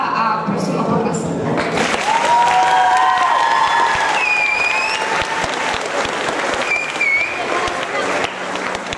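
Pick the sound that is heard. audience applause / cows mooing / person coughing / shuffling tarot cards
audience applause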